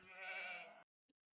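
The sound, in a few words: sheep bleating in Age of Empires II video game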